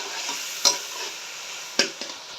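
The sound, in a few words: fresh peas frying in oil and ghee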